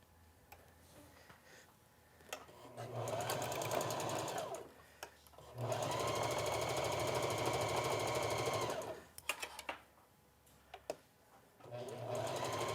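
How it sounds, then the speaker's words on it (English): A sewing machine stitches along the center back seam of a boatneck top in two sustained, rapid runs with pauses between them, plus short bursts and handling clicks, fairly quiet and close. "we're just gonna sew all along this center back that we just pinned"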